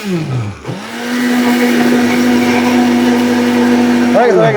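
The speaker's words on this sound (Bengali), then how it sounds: "দেখেন ব্লেন্ডার কথা বলে ভাই" Steel Bush blender machine running: a loud, steady motor whine that spins up quickly, holds an even pitch for several seconds, then starts to rise again near the end, close to the microphone with no speech.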